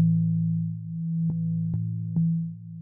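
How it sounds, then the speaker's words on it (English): A sustained low synth tone with chorus applied holds steadily and widely, interrupted by three brief clicky transients before it fades slightly at the end. "Let's just use a basic chorus."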